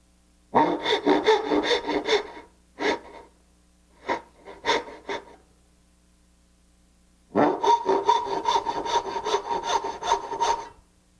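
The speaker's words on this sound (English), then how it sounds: "saw all the way down to my scribe line" A hand saw cutting wood down to a scribe line for a dovetail joint, with a long run of rapid rhythmic rasping strokes, a few short isolated strokes, then another long steady run, close and clear.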